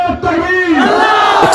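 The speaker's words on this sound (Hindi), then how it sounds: "तो जोर से नारा लगाइए, नारे तकबीर" A large crowd at a political rally in Jaunpur bellows a loud slogan in unison, one sustained roaring shout that swells from close by.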